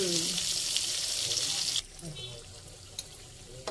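Pressure-cooked milkfish frying in a pan until browned, a loud steady sizzle for the first two seconds that then drops to a quieter crackle with a few faint clinks.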